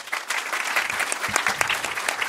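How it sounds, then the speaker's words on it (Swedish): An audience at a panel discussion gives a warm round of applause, many hands clapping in a lively, uneven patter for a couple of seconds, moderately loud and close, with no speech over it. "Och därmed tycker jag vi tackar panelen med en varm applåd."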